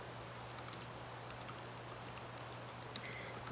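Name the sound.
typing on a computer keyboard with one hand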